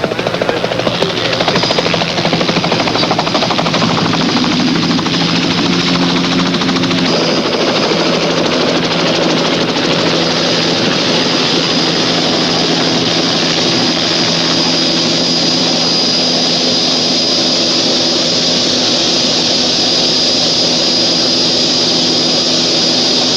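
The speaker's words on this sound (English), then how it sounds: "The helicopter finally arrived" A helicopter arrives with a loud, steady rotor and engine roar that holds strong from start to finish and settles slightly as it draws near.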